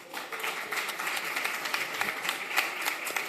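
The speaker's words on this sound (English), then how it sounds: "Can we give them a round of applause?" An audience at a panel event on sustainability gives the panelists a round of applause: a steady, moderately loud patter of many hands clapping together, continuous across the whole stretch.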